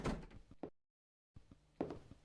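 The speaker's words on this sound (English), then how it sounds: "A door shut." A door shuts with a short, muffled thud in the horror video game Demonology, followed by brief silence and then faint, dull rumbling.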